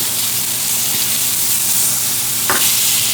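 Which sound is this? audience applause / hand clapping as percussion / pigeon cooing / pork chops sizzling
pork chops sizzling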